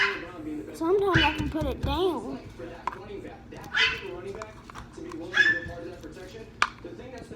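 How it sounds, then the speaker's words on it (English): Dogs in a home bark and yip in short bursts spread across the clip, some whiny and high, while someone talks over them. "Sorry for my dogs."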